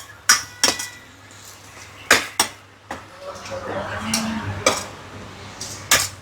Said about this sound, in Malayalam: നമുക്ക് കുഞ്ഞ് തീയിൽ മൂടി വയ്ക്കാം